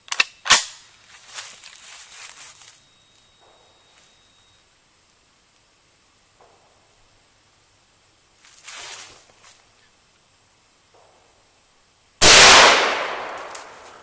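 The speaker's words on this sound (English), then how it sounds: "I just put 10 rounds. We're going to fire it." An SKS rifle firing, heard as sharp cracks: one close shot at the start, a fainter pair midway, then a very loud final blast with a long ringing tail, with quiet handling noise between shots.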